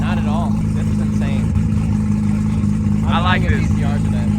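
A heavily modified Nissan GT-R making over 2000 hp runs at a loud, steady idle, its deep engine rumble continuous throughout while people talk over it nearby.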